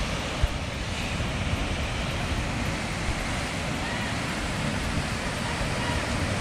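Fairly high ocean waves along the coast at Ambon surge and wash in a constant broad roar, with wind buffeting the microphone throughout.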